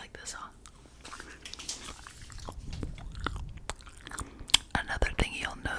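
Gum chewing in a close, quiet setting, with soft wet smacks and crunchy bites scattered irregularly throughout, faint and intimate, with whispering and light rustling mixed in.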